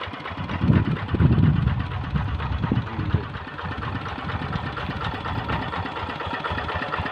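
A Kubota diesel tractor engine runs close by in a rice field, rising in a throaty rev before settling back to a steady, rattling idle.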